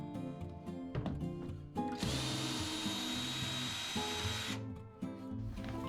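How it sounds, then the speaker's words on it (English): A power screwdriver whirs steadily for about two seconds, removing Phillips head screws from an LG washer during a drain pump repair. Low background music plays around it. "There are two Phillips head screws behind the detergent dispenser."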